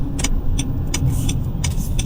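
A Honda CR-V hybrid, 2026 model, drives through busy traffic on a road toward the airport near Vancouver, with a steady, close road and engine rumble from inside the car and small recurring clicks or rattles.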